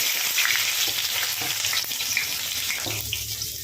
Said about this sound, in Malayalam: എണ്ണ നന്നായി ചൂടായിട്ടുണ്ട് ഇതിനകത്തേക്ക് നമുക്ക് വെളുത്തുള്ളി ഇട്ട്